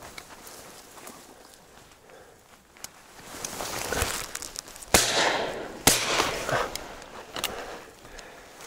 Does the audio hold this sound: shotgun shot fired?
yes